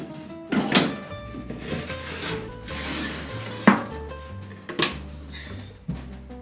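Chicken thighs drop into an air fryer basket, giving a few sharp clunks and rattles with soft rubbing and handling noises in between, close by in a quiet kitchen.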